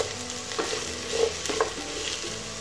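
Chopped ginger and green chilli sauté in hot oil in a pan for a North Indian style green peas masala, a close steady sizzle broken by a few scraping stirs of a spoon.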